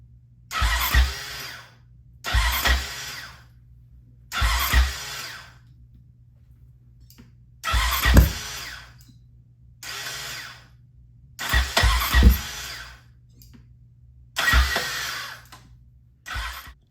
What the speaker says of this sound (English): after cranking this thing over a few times, I am starting to think that the clutch, the starter clutch on the side is bad